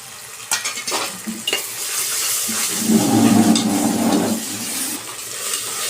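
Ginger garlic paste frying in a pan for country chicken curry, a steady close sizzle swelling midway, with a few sharp utensil clinks and stirring scrapes against the pan.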